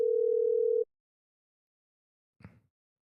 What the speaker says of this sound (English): I can hear it now. I heard the ringing.